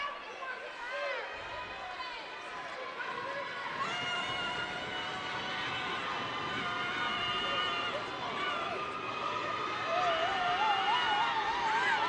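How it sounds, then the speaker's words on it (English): A home crowd roars steadily at a Columbus State vs. Clayton State men's college basketball game, with sneaker squeaks on the court and a commentator talking over the noise throughout. "Crowd going crazy here at the lock."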